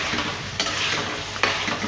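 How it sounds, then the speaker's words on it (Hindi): Coarsely crushed spices and fenugreek roasting in a pan, with a soft sizzle and the scrape and clink of a spatula against the pan in two sharp strokes, and no talk. "इसकी हम अच्छी तरीके से भुनाई करेंगे। और थोड़ी सी मेथी इसमें शामिल करेंगे।"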